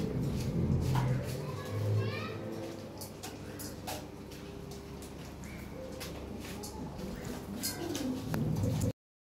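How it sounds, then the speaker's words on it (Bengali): Lahore pigeons at a breeder's loft cooing in low, soft, repeated calls, with scattered chirps from other birds and children's voices in the background throughout. "অনেক কবুতর আছে, আরও অনেক কবুতর আছে।"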